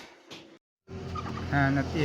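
Ducks squabble nearby in loud, harsh bursts of honking calls, broken by a short silence and then rising again into sustained raucous squawking.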